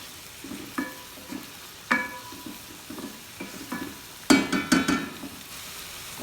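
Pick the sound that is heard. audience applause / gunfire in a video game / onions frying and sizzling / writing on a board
onions frying and sizzling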